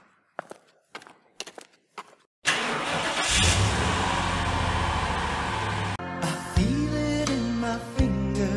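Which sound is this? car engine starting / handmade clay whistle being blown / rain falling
car engine starting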